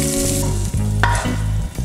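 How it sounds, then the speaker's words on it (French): Shrimp sizzle loudly in a hot pan for fried rice with Chinese sausage, a close, continuous frying hiss broken by a few stirring scrapes and clanks, with no talking. "Deuxième étape, on va venir faire cuire les crevettes."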